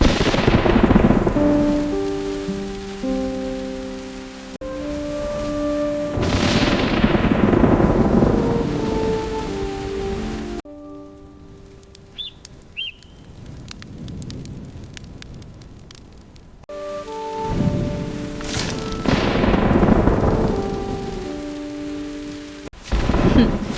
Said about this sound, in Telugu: గత 3 రోజులుగా ఆగకుండా వర్షాలు పడుతూనే ఉన్నాయి.